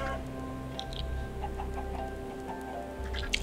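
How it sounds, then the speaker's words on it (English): Minecraft rain pattering on a warehouse roof while chickens cluck in short scattered bursts, soft and fairly distant over a steady background tone. "you can hear the sound effect of chickens screaming and the rain on the roof there"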